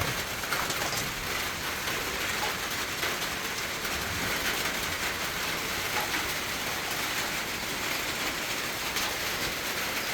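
Steady rain pours down without a break, a dense even hiss of drops hitting surfaces, with no voices.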